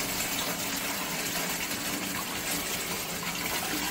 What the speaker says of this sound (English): By doing it this way, I injected water inside and it rinsed everything out.